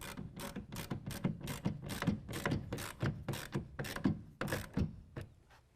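A ratchet wrench with a 1/2 inch socket tightens a clamp on an UnderCover Flex tonneau cover under a truck bed cap, giving a close, steady run of quick clicking strokes repeated about a dozen times.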